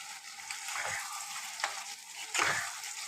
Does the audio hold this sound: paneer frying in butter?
yes